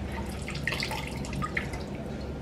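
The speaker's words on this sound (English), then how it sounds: "I'm just gonna like wring out some of the water" Water drips and trickles faintly from a hat after it is wrung out, scattered small drops and splashes over a quiet background.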